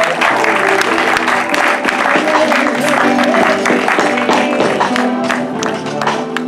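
An audience at a church ceremony claps steadily and loudly, cheering and voices mixed into dense, continuous applause filling the room.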